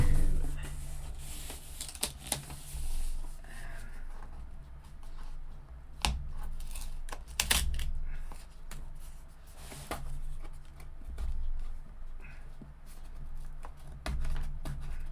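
Eco paper packaging of a diamond art studio kit being opened carefully by hand, with soft rustling, crinkling and occasional sharp tearing of paper and tape in a quiet room, close and fairly faint throughout.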